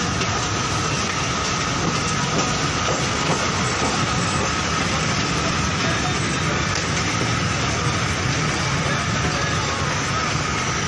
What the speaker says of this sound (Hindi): ट्रेन कोटादू स्टेशन पर रुक चुकी है।